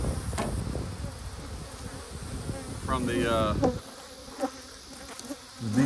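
Honey bees buzzing around a beehive in a cow pasture apiary, a dense continuous drone close by, with a brief word spoken and some handling noises.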